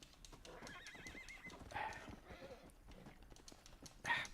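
Horse in the Red Dead Redemption video game neighing with a shaky whinny while hooves clop steadily, under low game ambience and faint background noise.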